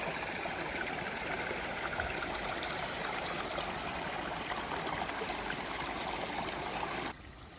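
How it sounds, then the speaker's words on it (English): A small creek on the Appalachian Trail in Virginia babbles and splashes steadily over rocks, close and continuous, then the sound drops off abruptly near the end. "So this is another little stream, creek running through here."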